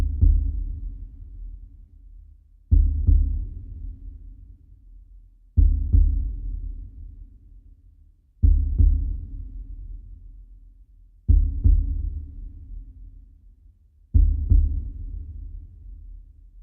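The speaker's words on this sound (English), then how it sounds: "We added non-diegetic sounds of heartbeats." Slow, deep heartbeat thuds repeat steadily about every three seconds, each a heavy low pulse fading before the next, with no other sound.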